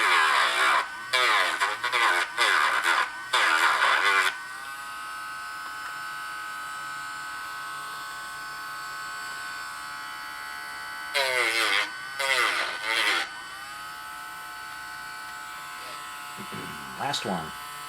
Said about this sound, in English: this grinding Dremel sound